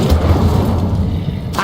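The Incendio fire spell cast in Hogwarts Legacy on PS5 lands as a deep, loud booming whoosh that sustains for over a second, with no talking.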